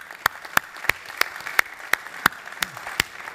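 Hands clap at an OpenStack technology conference, sharp distinct claps in an even, slow rhythm of about three per second, sounding like only a few people clapping in a quiet room.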